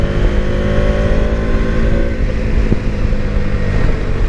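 A Bajaj Dominar 250 motorcycle accelerating in third gear at half throttle on the road, a loud, steady engine drone with rising tone and heavy wind rumble, recorded close from the rider's position.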